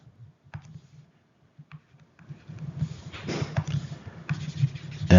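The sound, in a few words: writing on a board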